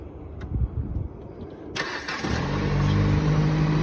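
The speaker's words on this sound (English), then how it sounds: "Let's get it started right back up with that jump" A towed auction car with about 152,000 miles, damaged, cranks and fires up on a jump start after some background noise, then settles into a steady, fairly loud idle.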